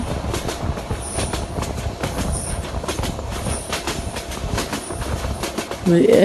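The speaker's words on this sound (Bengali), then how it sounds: "আরেকটি ট্রেন আমাদের ক্রসিং করতেছে" A train in a Bangladesh train simulator game rumbles steadily along rails with rhythmic clacking of wheels and a high squeal, growing louder near the end as another train crosses.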